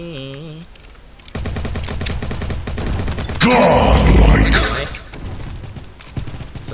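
Rapid automatic fire from an MP7 in the video game Bad Business comes in loud sustained bursts, mixed with other game effects while a voice speaks over it.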